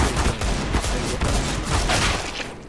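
Dense automatic gunfire from the CS:GO video game, a loud, rapid stream of shots and bursts that runs without pause for the whole stretch.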